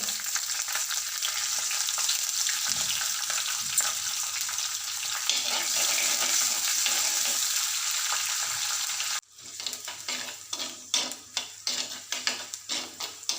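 Chopped ginger and garlic fry in a pan with a steady close sizzle, which drops away and gives way to a series of stirring scrapes and knocks against the pan near the end, no speech.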